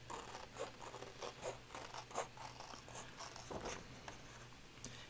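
Quiet, close cutting or scraping while trimming around a tall fall journal's altered book cover, a run of soft, irregular scratchy snips and rasps with a brief louder rustle near the end, no talk.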